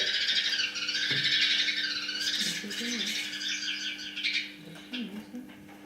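Tit song, a busy run of high, bright chirps and twittering notes, fairly close and continuous, over a low steady hum.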